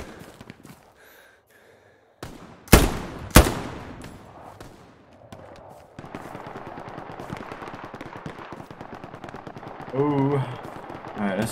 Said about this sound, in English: I'm getting shot at, my guy.